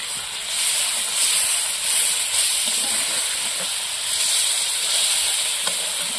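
Water poured into a pan of marinated Gondhoraj lemon chicken bursts into a loud, steaming hiss and sizzle, surging in waves and staying strong up close, with no voices.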